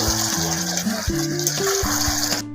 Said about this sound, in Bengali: তারপরে একটু জল দিচ্ছি